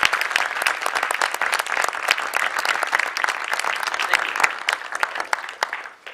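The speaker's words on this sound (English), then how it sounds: "So if we can give them a warm round of applause." Warm audience applause at a conference for the speaker's family seated in the hall, a loud, sustained patter of many hands clapping, dense and even throughout before tapering slightly at the end.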